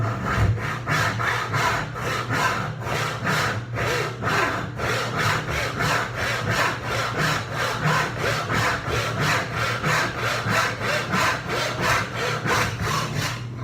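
A Bad Axe luthier saw cutting through wood, giving a close, steady back-and-forth rasp with quick regular strokes that continue without a break.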